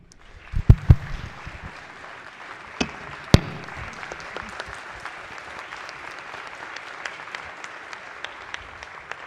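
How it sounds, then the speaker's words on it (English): A chamber full of legislators in the Maryland House of Delegates breaks into sustained applause, dense steady clapping with a few sharp louder claps near the start. "Please join me, give them a round of applause"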